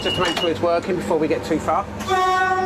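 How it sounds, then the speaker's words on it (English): A driver sounds the horn of an East Coast passenger train leaving King's Cross, a sustained two-tone blast at the end after he talks in the cab. "I'm just going to test the horn because I test it when I leave King's Cross"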